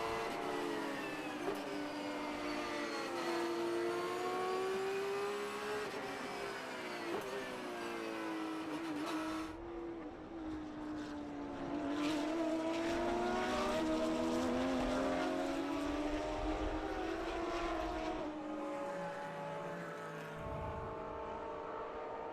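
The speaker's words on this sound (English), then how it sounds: "So final lap then, Andy Pilgrim on his way to his second" GT race cars at Mid-Ohio scream past, engines rising and falling through gear changes, with several cars passing in sequence at moderate distance.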